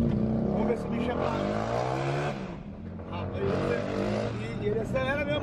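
A Today 330cc motorbike accelerating hard nearby, its engine rising in pitch through rapid revs, dipping briefly, then climbing again, while someone talks over it.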